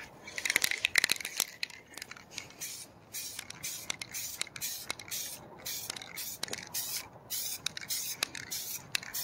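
Spray paint hisses on in short bursts while a base coat goes onto interior panels, separated by quiet gaps and faint handling noises, fairly close and moderately quiet.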